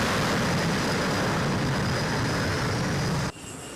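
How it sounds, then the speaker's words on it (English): A catapult launch hurls an aircraft down an aircraft carrier deck into the sky, a loud sustained broadband jet roar that cuts off abruptly near the end, with no voices. "the catapult is released, and the aircraft is accelerated down the deck and into the sky"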